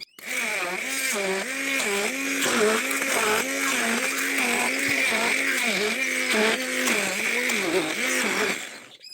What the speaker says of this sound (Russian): И теперь хорошенько перебиваем блендером до однородности.